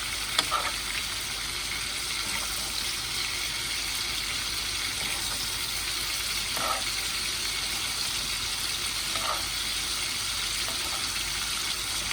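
A Cajun-seasoned ribeye steak fries in a hot pot, giving a steady, dense sizzle that holds evenly throughout, with a few faint clinks or stirring touches rising briefly above the hiss.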